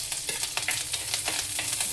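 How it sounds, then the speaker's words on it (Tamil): Mustard seeds crackle and splutter in hot oil in a Tamil home kitchen, a steady dense sizzle with rapid popping bursts that carries on without a break and with no voices. "எண்ணெய் நல்லா காஞ்சிருச்சு, கடுகு போட்டுக்கலாம். கடுகு பொரியட்டும்."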